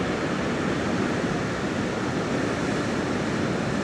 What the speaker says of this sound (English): I wonder how many gallons of water are flowing through there right now.